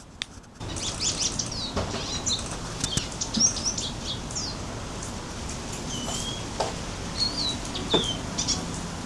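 Birds outdoors, a scatter of small chirps and quick calls over a soft background hiss, with light flutters and ticks, fairly faint and intermittent.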